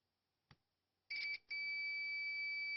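A multimeter's continuity beeper sounds a steady electronic tone while its probes test the ringer coil of a Nokia mobile phone during repair; a short click comes first, then the beep starts, breaks off briefly, and holds on loud and continuous.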